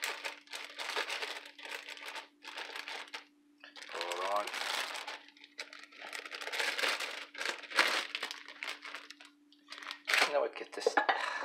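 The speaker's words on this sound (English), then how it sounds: "Unzip this bag." A plastic bag being unzipped and handled amid kitchen clutter crinkles and rustles in close bursts, with a steady background hum and brief speech mixed in.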